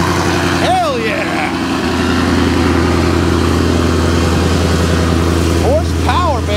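A 2010 truck engine runs loud and steady close by, with a deep low rumble throughout, while people's voices and whoops break in over it.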